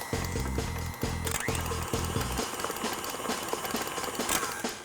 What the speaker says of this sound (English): now I'm just going to put my mixer on low and slowly add our flour